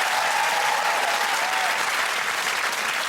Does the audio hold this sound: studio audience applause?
yes